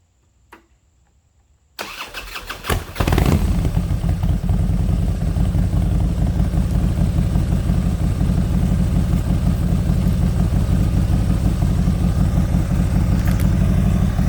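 After a brief quiet moment, a Harley-Davidson Road King touring motorcycle with a baffled fishtail exhaust cranks and fires up, then settles into a steady, loud idle that continues throughout.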